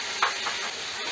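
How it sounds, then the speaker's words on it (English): Ground tomatoes being stirred in a pan while a village-style dry fish curry cooks, a short soft scrape with a light sizzle and steady hiss underneath, close and fairly quiet. "Mix it well."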